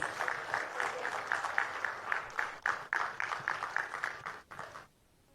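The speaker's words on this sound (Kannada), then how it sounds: "ನಿಮ್ಮೆಲ್ಲರ ಪ್ರೀತಿಯ ಚಪ್ಪಾಳೆಯೊಂದಿಗೆ ಸ್ವಾಗತಿಸಿ" Steady audience applause at a Kannada film trailer launch event on stage, a dense ongoing patter of many hands that carries on evenly for several seconds, then cuts off abruptly into near-silence.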